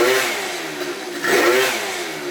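A 70cc Yamaha BWS scooter running a stock pipe revs hard, its buzzing engine note holding steady and then climbing sharply about halfway through, close and loud with no talking.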